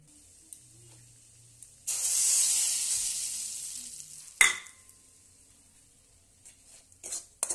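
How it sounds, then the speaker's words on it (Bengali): Crushed lentil dumplings (bori) sizzle in hot oil in a pan, a sudden burst of frying hiss that fades gradually, then a sharp clatter of stirring and a few softer scrapes. "দেখো ভাজা হয়ে গেল আমার বড়িটা"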